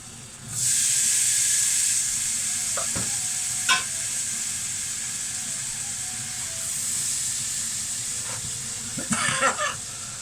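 Beans hit melted butter in a pan with a bright, steady sizzle that starts early and holds throughout, broken by a few clinks and stirring scrapes near the end, close and clear with no talk.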